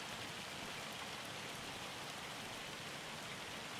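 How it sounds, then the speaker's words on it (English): Hail falls in Farming Simulator 25 as a dense, even hiss of pelting ice, faint and unbroken, with no voices. "Is that hail? That is hail."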